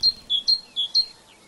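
A great tit singing: four short, bright high-pitched notes in a quick rhythmic phrase, clear and fairly close against a quiet background.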